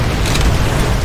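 A grenade blast in Call of Duty: World at War, heard as a loud, broad rumbling boom that fills the whole short moment without a clear onset or decay.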